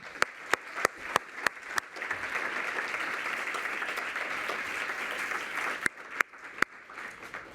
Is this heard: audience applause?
yes